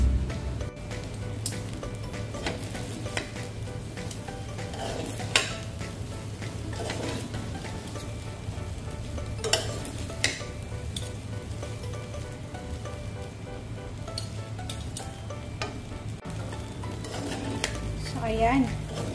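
Egg fried rice frying in a small wok while being stirred: a steady, low hiss with scattered scrapes and light clinks of the utensil against the pan, close by and continuous throughout.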